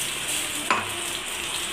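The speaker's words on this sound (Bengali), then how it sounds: "পেস্টটা আমি ভালো করে এবার তেলে নাড়বো" A masala paste of poppy seed, green chilli, tomato, melon seed and cashew frying in oil, a faint steady sizzle with one brief clink of a utensil midway.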